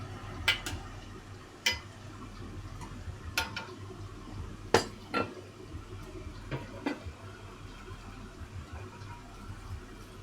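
Shio ramen broth stirred in a pot, with quiet scattered clinks and taps of a utensil against the pot rim among faint liquid movement, spaced irregularly over a low steady background.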